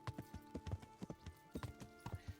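Horse hooves clip-clop in the video game Kingdom Come, a quiet, steady, rhythmic patter of clustered hoofbeats on hard ground, heard alone with no talk.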